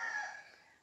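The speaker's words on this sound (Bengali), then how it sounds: "মোরগের ডাক" A rooster crows once in a quiet village setting, a short, clear, fairly distant call that fades out on its own, with no talk over it.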